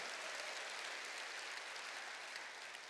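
A church congregation applauds together, a thick, uniform roar of clapping that stays constant and loud for the whole stretch, with no talking over it.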